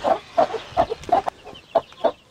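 A broody hen clucks in a coop, giving a steady series of short, close clucks in a regular rhythm with brief gaps, and no voices alongside.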